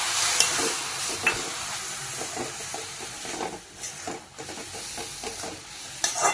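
Stirring grated coconut, sugar and milk together in a pan over a medium flame for rose-flavoured modak filling: steady scraping and soft sizzling strokes with occasional sharper clicks, close and continuous, no voices.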